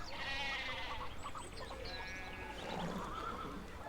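Horse neighing in the medieval-set video game Pentiment, a high whinny with harmonic trills near the start and again around the three-second mark, heard over a dense, continuous outdoor background.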